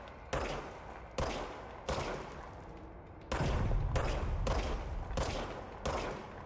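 The player's gun fires in the action game Control, heard as a series of about eight sharp, close shots at a fairly regular pace, each followed by a short decaying tail, with no talking.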